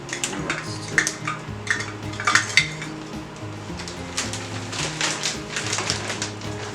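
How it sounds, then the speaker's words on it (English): Powdered sugar lemon glaze for a bundt cake being stirred together in a bowl, with a utensil repeatedly clinking and scraping against the sides in an uneven rhythm, close and moderately loud, with no talking. "we're just gonna mix this all together"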